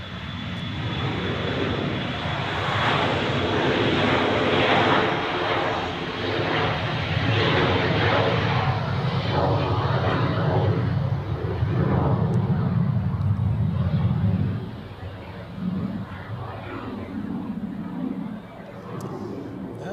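Airplane engines roar at Zurich Airport, where an Edelweiss A340 heads for runway 16. The sound is a loud, sustained broadband rumble lasting the whole stretch and easing slightly near the end, with no talk over it.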